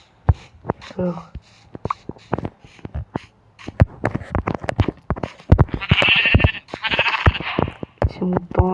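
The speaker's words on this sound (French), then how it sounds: "Petit mouton là." Sheep in Minecraft Bedrock survival give several wavering bleats, loudest near the middle, while someone talks steadily over them.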